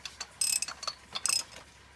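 A ratchet clicks in quick bursts while snugging spark plugs down on a Hummer engine, two clusters of close, crisp pawl clicks separated by short pauses, with no talking.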